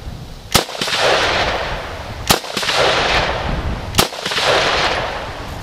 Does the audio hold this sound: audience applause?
no